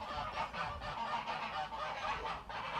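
Geese honk over and over on a farm, a loud, dense chorus of overlapping calls close by, with no pause and no voices.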